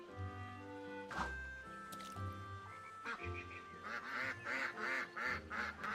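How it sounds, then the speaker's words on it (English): Ducks quack in the video game Fear The Spotlight. Several nasal, honking calls come close together over a low droning musical background. "Oh, I think the ducks were interfering."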